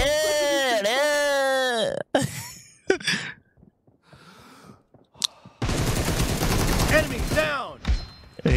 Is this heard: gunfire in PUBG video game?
yes